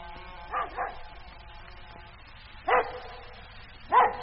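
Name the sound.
dog barking, radio drama sound effect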